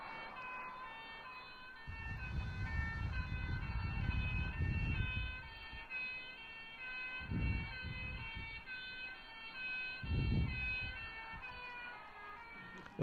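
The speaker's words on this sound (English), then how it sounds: "I think it's an ambulance." A recorded ambulance siren wailing steadily and loud, its rising and falling tones holding for the whole stretch, with low rumbling bursts beneath and no talking.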